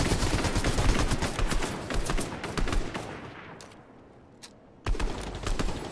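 Rapid gunfire bursts crackle in a Fortnite match, dense repeated shots for several seconds, a brief lull, then another loud volley.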